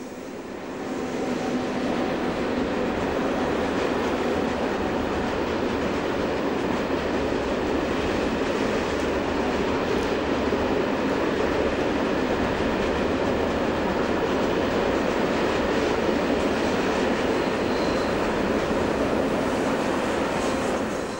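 A GDR new-build locomotive hauls a train along the Rübelandbahn in the Harz, a loud continuous rumbling roar of wheels and rails rolling past close by, steady for the full stretch with faint clickety-clack.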